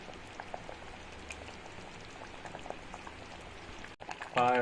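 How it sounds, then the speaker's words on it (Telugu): Mutton paya curry boils steadily in a pot, a continuous bubbling and popping that fills the clip at close range, with a brief louder clatter right at the end. "వేడి వేడి ఉడుకుతుంది చూడండి"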